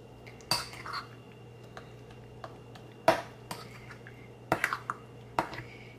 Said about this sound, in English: I'm just gonna stir this up